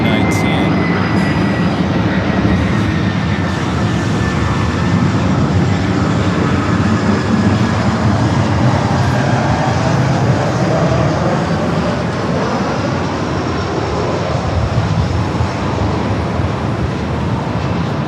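Delta airliner arriving at LAX, a sustained loud, airy jet roar with a faint high whine that slowly shifts pitch, steady across the whole span, with no speech.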